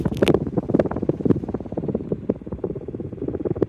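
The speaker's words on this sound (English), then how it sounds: "With its 13-degree blade pitch, it moves a lot of air." A 44 inch Trice ceiling fan with a 13-degree blade pitch running indoors in a small spare room, a fluttering rhythmic whoosh of air close to the microphone, steady and fairly loud with no speech.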